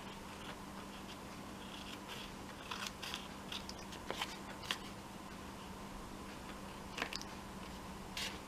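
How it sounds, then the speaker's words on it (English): Scissors trim excess material from around the edge of a handmade craft tag, giving a scattered series of quiet, crisp snips and small crunches with no talking. "if I can find my scissors, I'm going to cut off all the excess stuff that's around the edge"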